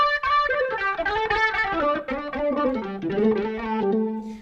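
A Roland GR-55 guitar synth patch mixing synth and PCM tones plays a short melodic phrase with layered, sustained electronic timbres, up front and clear, no voices.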